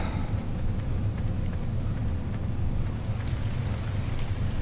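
Steady rain pours in the survival game ARK, a dense, even hiss of falling water with a low rumbling undertone throughout, no voices.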